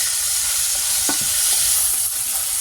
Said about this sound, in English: now we're going to flip it over, and we should be seeing a nicely seared crust come over the top of our beef